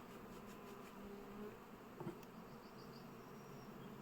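Honeybees buzz steadily around a hive frame while young queens are being raised, a soft, continuous drone close by with no one speaking.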